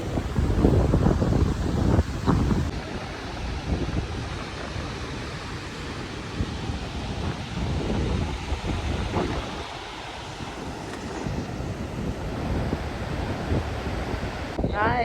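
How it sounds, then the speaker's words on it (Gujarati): Sea waves wash in on the shore behind a temple while strong wind buffets the microphone, a continuous roar and rumble of surf near and loud throughout. "આ મંદિરની પાછળ દરિયો છે. બહુ જ મસ્ત દરિયો છે"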